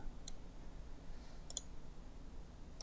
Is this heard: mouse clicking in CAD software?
yes